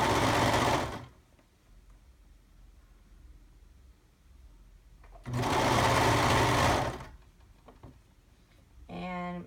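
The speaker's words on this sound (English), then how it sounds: "So here we are serging the necklines together." A serger sewing machine stitching knit necklines together whirs loudly in two long bursts of steady, close mechanical buzzing, separated by a quiet pause, with a short, rapid stuttering start at the end.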